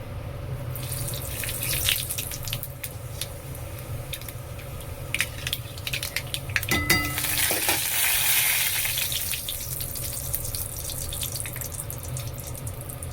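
Panch phoron spices hit hot oil in a pan for a papaya, taro and potato chorchori, making a loud continuous crackling sizzle with a brief burst of clatter midway.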